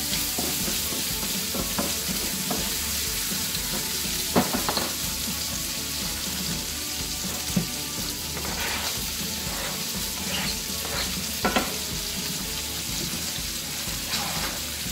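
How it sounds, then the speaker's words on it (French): Pieces of bacon and onions fry together in a pan for a tuna casserole, a steady crackling sizzle with scattered stirring clinks and scrapes, continuous for the whole stretch. "Dès que ça commence à brunir, vous pouvez déjà mettre vos oignons."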